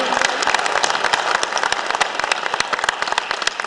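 Loud, dense applause from an audience at an African hotelier summit honorarium gala, welcoming an honoree onto the stage; continuous clapping fills the whole stretch.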